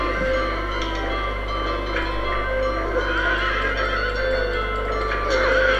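A horse neighs in the survival horror game Silent Hill 3, set against a steady low ambient hum and dense layered background sound, a drawn-out whinny blending into the murky game soundscape throughout.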